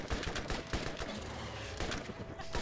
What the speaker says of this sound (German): du klaust mir die ganze Zeit die Schüsse